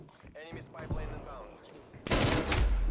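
Bursts of automatic gunfire in the video game Call of Duty Black Ops Cold War, scattered shots early and a loud sustained volley in the last second, with other game noise between.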